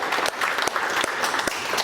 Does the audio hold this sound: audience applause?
yes